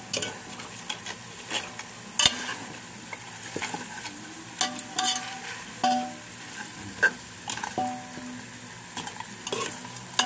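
A spatula scrapes and stirs a sizzling sauté of meat and mung beans in a pan, with repeated close taps and scrapes over a steady low fry.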